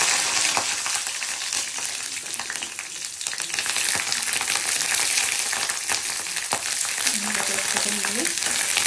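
Capsicum hits very hot oil with a loud, dense, crackling sizzle that runs unbroken, spitting and popping at close range, while a faint tonal whine rises briefly near the end.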